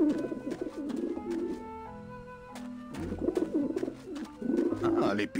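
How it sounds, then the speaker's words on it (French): Pigeons coo repeatedly in the Grim Fandango video game, their soft, throaty calls coming close and loud in several bursts with short gaps between them. "les pigeons ont l'air d'apprécier cette mangeoire"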